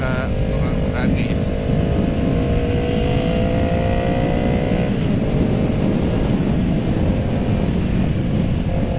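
A Kawasaki ER6N motorcycle revs and pulls away on a dark road, its engine tone climbing in steady harmonic sweeps under heavy wind rush, with a voice talking over it.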